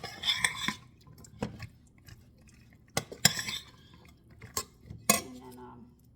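Baked ziti ingredients are stirred and mixed in a dish, with a spoon clinking and scraping in irregular bursts and soft squelching between, close and fairly quiet.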